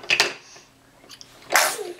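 A small, sharp sneeze bursts out close by, followed by a second noisy burst, with soft breathy sounds between them in a quiet indoor setting.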